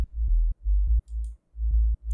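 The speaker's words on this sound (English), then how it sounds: "So this is just a sine wave which sounds like this." A pure sub-bass sine wave from a 3x oscillator in a tech house production plays alone and unprocessed, a few deep sustained notes in a steady rhythm.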